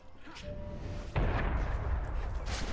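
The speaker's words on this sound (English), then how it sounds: "Is that a smoke bomb?" A smoke bomb bursts in a video game with a sudden loud onset, then a sustained roaring hiss that keeps going to the end over constant background game noise.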